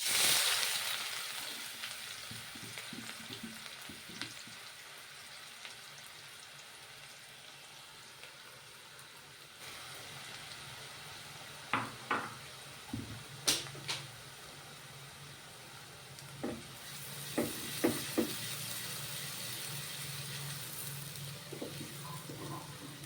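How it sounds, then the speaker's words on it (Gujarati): Onion goes into hot oil for a tempering, giving a soft, steady sizzle with scattered sharp pops and crackles, close by and without talk. "તો અહીંયા આપણું તેલ ગરમ થઈ ગયું છે તેમાં સૌપ્રથમ આપણે ડુંગળી એડ કરીશું"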